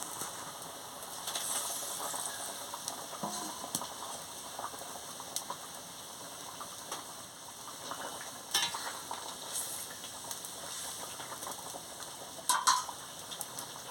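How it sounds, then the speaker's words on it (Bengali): Tilapia fish curry boils in a pot, a faint continuous bubbling simmer with occasional small clinks and pops. "কি সুন্দর ফুটছে ঘর ঘর করে"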